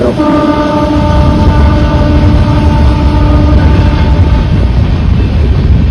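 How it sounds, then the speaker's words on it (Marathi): A loud, continuous rumble of a train passing nearby through hilly country, with a steady mechanical drone and sustained tonal whine throughout. "रेल्वेचा आवाज भरपूर मोठी"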